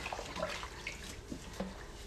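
A sponge being rinsed and squeezed in water makes close, soft continuous splashing and trickling with a few small drips and squelches, quiet and intimate, with no talking.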